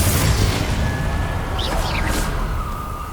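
A Confringo blasting curse bursts in Hogwarts Legacy on PS5, a single whooshing boom with a brief fiery crackle over a steady game backdrop and music.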